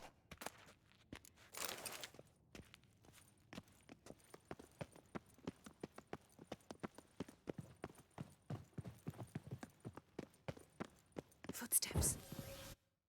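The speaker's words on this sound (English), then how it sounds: "Footsteps." Footsteps in The Witcher 3 at Kaer Trolde, a long run of soft, regular steps close by under faint background, with louder bursts of movement near the start and end.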